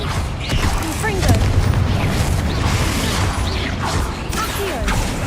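Repeated Confringo fire-blast spell explosions in the video game Hogwarts Legacy during a troll fight, a string of booming crashes and whooshes layered over dense battle noise, close and loud.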